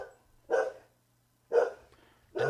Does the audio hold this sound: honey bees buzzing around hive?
no